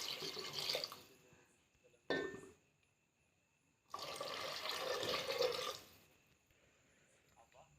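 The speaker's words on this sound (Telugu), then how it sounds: "గ్లాస్కి గ్లాస్న్నర వాటర్ పోసుకుంటున్నా" Water poured in a few splashing bursts into a pot of softened, cooked-down tomatoes for tomato rice, with quiet gaps between pours.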